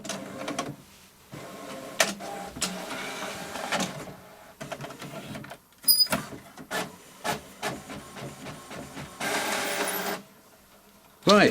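An older printer connected to a laptop runs through a print job, with mechanical whirring, clicks, rattling feed noises and bursts of motor sound that come and go at close range.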